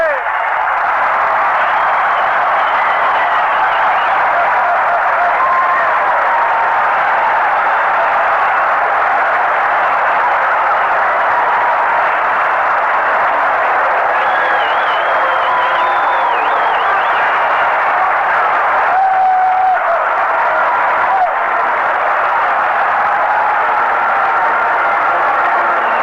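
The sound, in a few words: baseball stadium crowd cheering and applauding, Cincinnati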